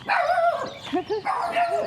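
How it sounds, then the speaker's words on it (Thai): Small dog out in a rice field in the early morning, letting out a quick run of close, high-pitched yapping barks with a whiny edge. "ไอ้ตัวเล็กมันเห่า"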